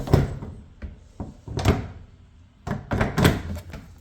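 A Samsung dryer door is lifted and set onto its hinge holes, giving several close, solid knocks and clunks of metal and plastic fitting into place, spaced irregularly with quieter handling rustles between.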